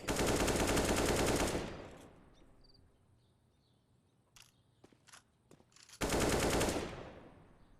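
Sustained automatic gunfire in the competitive shooter CS:GO, a loud burst of rapid shots, then a quiet stretch with a few scattered clicks and single sharp reports, before another heavy burst of rapid fire.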